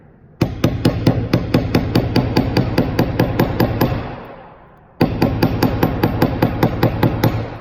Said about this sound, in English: hold your teardrop on the metal plate and begin to hammer